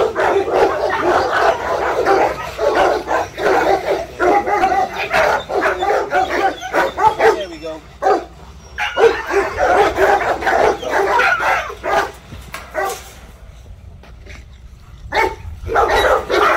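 Puppies bark and yip in rapid, overlapping bursts, loud and close, with a couple of brief lulls before the yapping picks up again.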